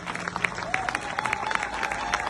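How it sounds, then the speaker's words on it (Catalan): A crowd at a regional Catalan celebration day applauds strongly, a dense wash of steady clapping with some crowd noise, and a faint tone drifting through. "es mereixen aquest aplaudiment ben fort"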